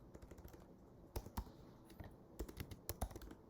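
Keys on a computer keyboard clatter quietly while HTML code for a registration form is typed, with irregular clusters of crisp clicks and a few heavier taps, close and faint.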